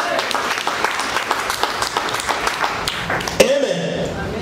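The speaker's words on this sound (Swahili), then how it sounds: "Umpigie Yesu makofi." A church congregation claps together in praise, a steady rapid patter of many hands that runs throughout, with a louder hit near the end and a voice speaking over it.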